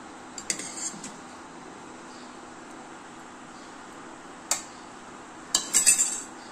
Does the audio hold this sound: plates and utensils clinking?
yes